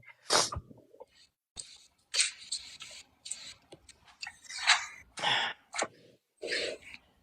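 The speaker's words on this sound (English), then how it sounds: "I've been waiting on that sneeze." A sharp sneeze bursts out near the start, followed by scattered breathy sniffs, gasps and short exhales close to the microphone.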